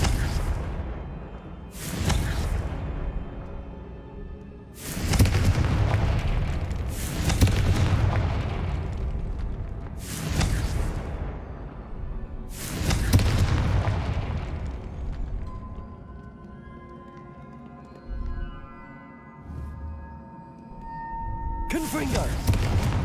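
Repeated Confringo fire-blast spells in Hogwarts Legacy, six or so sharp booming explosions spaced a few seconds apart, each with a short decaying tail, loud and close.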